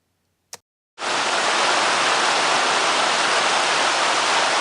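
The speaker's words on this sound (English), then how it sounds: "this is a shot of the creek just up above the reservoir on the way up to the dam, flowing very nicely" Creek water rushing steadily between a reservoir and a dam, a loud, continuous broadband roar that starts abruptly after a brief click and holds without a break.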